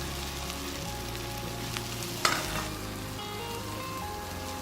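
Tempeh goes into spice paste and oil in a wok, giving a faint continuous sizzle with a low hum and one sharp clatter midway, no talking.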